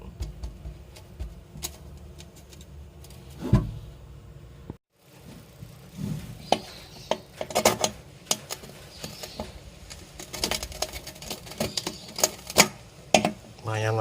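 A screwdriver pries apart aquarium glass, producing sharp, irregular clicks, taps and scrapes of metal on glass at close range, with a brief pause midway and a voice talking intermittently.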